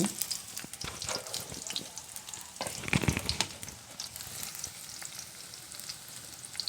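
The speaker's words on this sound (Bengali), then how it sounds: "এখানে আমরা পেঁয়াজ কুচি দিয়ে নিচ্ছি এবং এর মধ্যে আমরা মরিচ কাঁচামরিচ দিয়ে দিব" Chopped onion and green chilies fry in mustard oil, sizzling softly and crackling, with scraping stirring strokes and clinks from a utensil against the pan, close up and without talk.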